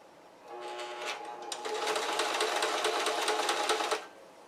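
A sewing machine stitches the elastic casing on a pair of shorts, a fast, even mechanical whir that starts softly and then runs steadily for a few seconds before stopping.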